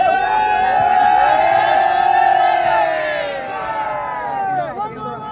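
A crowd of boys in a Konkan village Shimga festival procession, welcoming the goddess, lets out a loud, sustained collective whoop and cheer. The roar rises and wavers with overlapping shouting voices for several seconds, close and intense.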